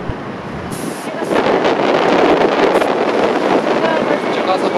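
Wind gusts across the microphone on a windy Danube riverbank in Budapest, a loud, rough rumbling buffet that builds after the first second and stays constant.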